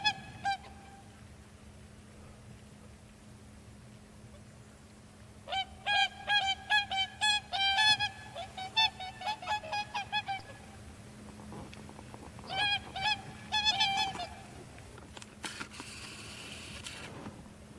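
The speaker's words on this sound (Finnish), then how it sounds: "eri hanhia." Bursts of harsh, nasal goose honks during spring migration at Liminganlahti bay, a rapid flurry mid-clip and a shorter one later, over a steady low hum with quiet stretches between.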